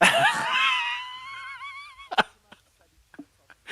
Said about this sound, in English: The guy's screaming.